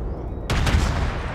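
Heavy warship guns fire in a naval video game, a sudden loud booming blast that cuts in after brief quiet and rolls on as a dense, rumbling salvo.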